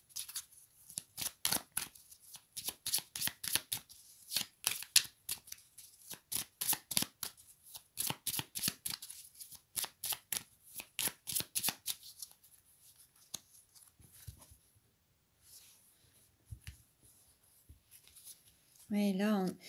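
Tarot cards are shuffled close up in quick, crisp riffling bursts that repeat in rapid rhythmic runs, pausing briefly, before a short burst of speech at the end.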